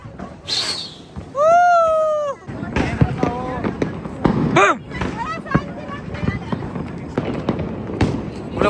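Firecrackers whistle and burst in quick, irregular pops close by, with people talking and calling out between the bangs.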